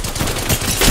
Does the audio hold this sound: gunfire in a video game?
yes